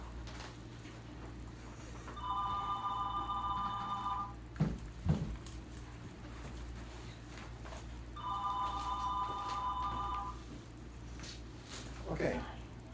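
A telephone rings for an incoming call with two separate trilling bursts several seconds apart, each about two seconds long, set against a low room hum with a few knocks in between.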